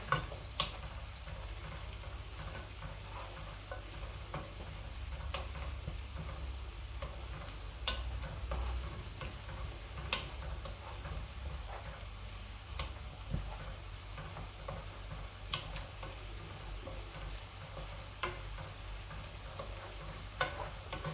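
Bitter gourd and potato cook in a pan with a faint, steady sizzle, broken by scattered light clicks and scrapes as a spoon stirs the pieces now and then over a long, quiet stretch.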